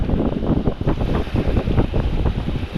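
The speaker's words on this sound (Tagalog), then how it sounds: "Maalon nga nakikita mo." Rough sea churns around a small fishing boat as strong wind buffets the microphone, a loud, constant rumbling roar of waves and gusts with no talking.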